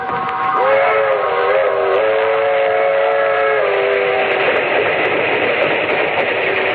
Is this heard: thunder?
no